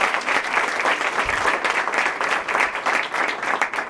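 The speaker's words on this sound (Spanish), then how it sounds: "yo pediría que de verdad les demos un fuerte aplauso porque han hecho un buen esfuerzo" Loud, dense applause from a congress audience fills the whole stretch, steady and sustained, with a hint of crowd murmur beneath the clapping.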